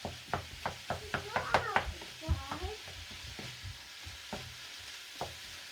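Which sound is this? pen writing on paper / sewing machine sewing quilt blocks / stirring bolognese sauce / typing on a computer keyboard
stirring bolognese sauce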